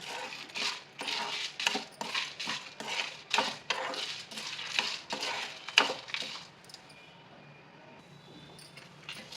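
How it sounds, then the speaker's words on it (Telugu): Dried red chilies and toor dal fry in ghee in a pan, with rapid rattling, clinking and scraping of the ingredients and a utensil against the metal that fade to a quiet hiss near the end. "ఎండుమిరపకాయలు ఒక కప్పు కందిపప్పు వేసి వేయించుకుందాము ఎర్రగా వేయించుకోవాలి"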